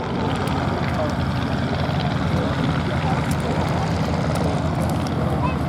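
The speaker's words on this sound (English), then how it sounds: "Meanwhile, another Stearman taxiing out past the control tower." A Stearman biplane taxis at the Duxford airshow, its propeller engine giving a steady, continuous drone with voices in the background.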